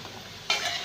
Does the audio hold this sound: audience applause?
no